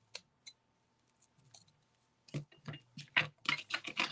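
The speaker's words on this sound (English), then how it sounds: "I'm going to get my circle cut out." Scissors snip around a paper circle for a junk-journal specimen card, a few sparse cuts at first, then a quicker run of close, crisp blade snips and paper rustles.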